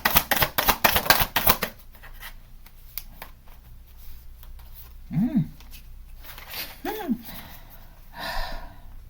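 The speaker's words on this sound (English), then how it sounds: "I don't know why it's so hard to shuffle with these" Rapid riffling flutter of playing cards being shuffled, then softer card handling with a couple of brief breathy voice sounds.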